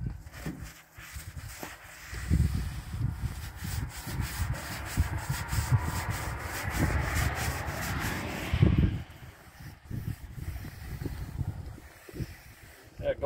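Rag rubbing Sunnyside linseed oil onto the old metal body of a 1946 Chevy, a steady close scrubbing swish that continues in bursts with brief pauses.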